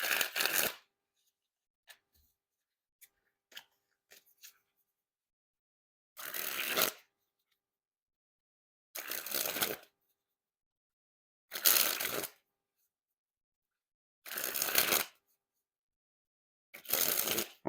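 Succulents playing cards by Penguin Magic are sprung from one hand to the other, making five or six separate loud riffling bursts, each about a second long, with quiet gaps and faint handling clicks between them.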